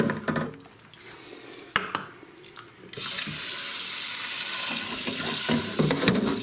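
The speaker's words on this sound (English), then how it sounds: "to get it back to be a gravy form, you have to add some water." Water running from a tap into a pan of gelatinous meatloaf gravy, a steady loud splashing stream after a few soft kitchen clatters.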